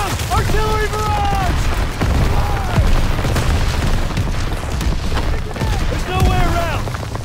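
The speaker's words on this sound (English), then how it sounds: "Artillery barrage!" Artillery barrage in a Call of Duty WWII battle: dense rumbling booms and scattered gunfire roll continuously, with shouted voices and whistling tones rising over the din.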